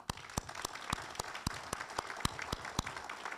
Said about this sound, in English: And please, a round of applause.